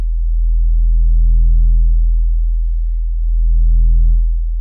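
Deep sub bass synth tone from Native Instruments Massive with a sine shaper adding drive, two long swelling low notes, loud and smooth with no other sounds.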